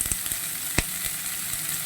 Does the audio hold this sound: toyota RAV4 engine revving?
no